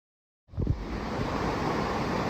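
High, fast river water rushes along the Appalachian Trail in New Hampshire, a loud continuous roar of churning flow that starts abruptly and stays steady, with no voices.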